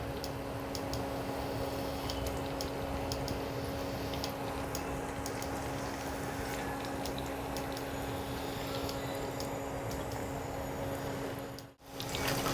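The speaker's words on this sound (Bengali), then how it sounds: "তেল গরম হয়ে গেছে এবার আমি মাছগুলো ভেজে নিচ্ছি" Fish pieces sizzle in hot oil in a pan, a steady close hiss flecked with small crackling pops that carries on evenly and drops out briefly near the end.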